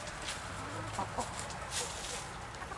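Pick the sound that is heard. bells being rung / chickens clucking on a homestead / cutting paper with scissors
chickens clucking on a homestead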